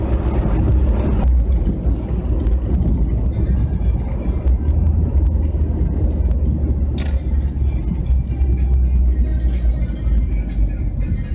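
Steady low road rumble from inside a passenger car cruising along after a stop at a Polish motorway service area, loud and continuous for the whole stretch, with a brief brighter whoosh partway through.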